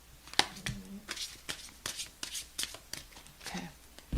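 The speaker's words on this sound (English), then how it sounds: "Maddie, one more shuffle" Close riffling and slapping of cards being shuffled, a quick run of crisp flutters and taps, fairly quiet.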